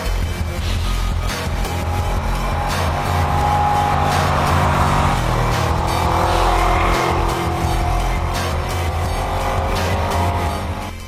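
A Ducati Diavel motorcycle on a road test, its engine roaring loud and sustained with rising and falling revs as it accelerates and passes close by.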